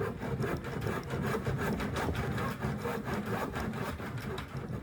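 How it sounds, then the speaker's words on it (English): Hand saw cutting through wooden bed parts outdoors in cold weather, a steady run of rapid back-and-forth strokes close by and loud, with no talking. "they have a hand saw at the exit, so I'm gonna have to cut it by hand"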